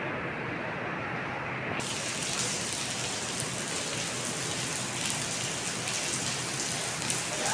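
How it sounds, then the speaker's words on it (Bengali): Steady rain falls at an old Hindu temple in Kuala Lumpur, a dense continuous patter on surfaces that holds evenly from start to finish. "আপনারা দেখতে পাচ্ছেন যে বৃষ্টি পড়ছে।"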